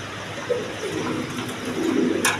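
Spanish pouter pigeons cooing close by, a few low throaty coos rising and falling over about two seconds, with a brief sharp noise near the end.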